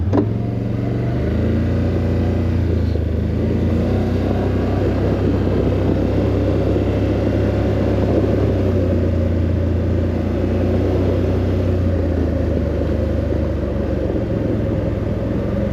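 A Can-Am Outlander X MR ATV engine labors uphill in low gear on a trail, a loud, steady low rumble that holds a sustained drone throughout with slight shifts in pitch, no voices.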